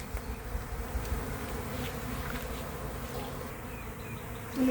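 A swarm of honey bees gives off a dense, continuous buzzing hum close by, steady throughout with a brief louder swell near the end, and no talking.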